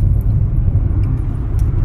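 A car cruises on cruise control locked at 74 km/h, its cabin filled with a steady, loud low road and engine rumble and no talk.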